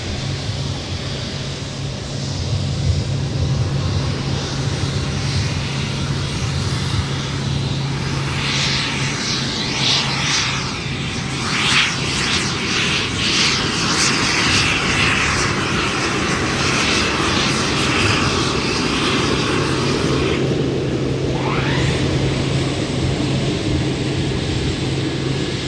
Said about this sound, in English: That was the APU that just fired up there.